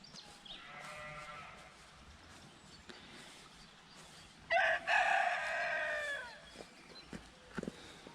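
Sheep bleat in a quiet outdoor meadow, one drawn-out call early and a louder, wavering bleat midway, with soft rustling between.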